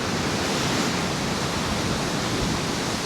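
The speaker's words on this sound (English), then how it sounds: "Big old waves." Big sea waves surge in a harbour under straight easterly winds after rain, a loud, constant roaring wash of water and wind with no breaks and no voices.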